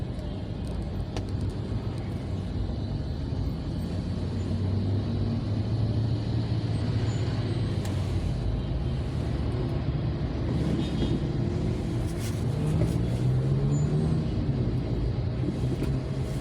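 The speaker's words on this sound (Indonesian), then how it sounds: "Makanya jalan agak sedikit macet sih di sini." Busy road traffic at Tanjung Barangan in Palembang, with cars and buses passing in a steady, dense low rumble of engines and tyres that continues without a break.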